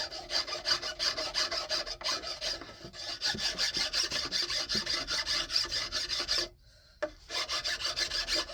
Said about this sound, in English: files are the sandpaper of the old times, and before machines, guys had to do this all by hand